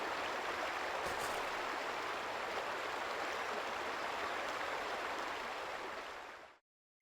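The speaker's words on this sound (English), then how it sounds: "I'm probably just sitting at a waterfall right now." Steady waterfall ambience in Halo: Combat Evolved, a continuous soft rushing of falling water at a constant distant level, cutting off abruptly at the end.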